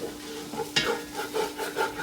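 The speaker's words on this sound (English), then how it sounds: "Very important to not stop stirring during this step." A spoon stirs jambalaya rice in a pot, making soft repeated scraping strokes with a faint sizzle underneath, close and quiet.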